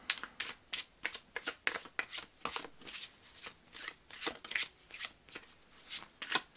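Tarot cards are shuffled in a rapid, rhythmic series of riffling bursts, close and fairly quiet, with no voices over them.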